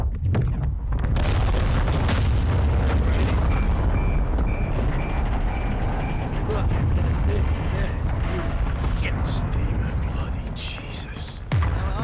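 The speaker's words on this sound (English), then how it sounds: "Missile and rig destroyed." A missile explosion destroys a rig in Call of Duty Modern Warfare II: a loud, sustained rumbling blast with debris and creaking mechanical noise, fading slightly near the end.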